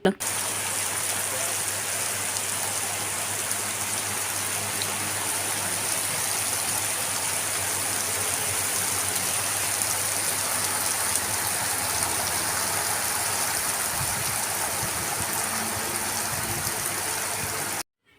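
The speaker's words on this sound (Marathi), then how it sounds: "आणि तेवढ्यात पाऊस आला खूप बरं वाटलं" Heavy rain pours steadily throughout in a constant, even hiss, close and unbroken, before cutting off abruptly at the end.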